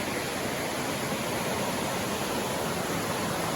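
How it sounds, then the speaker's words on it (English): Steady broadband rushing of a small waterfall falling into a lake in Glacier National Park, heard close and constant, with no other sounds or voices. "Little waterfall running into the lake."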